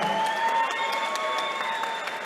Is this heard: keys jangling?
no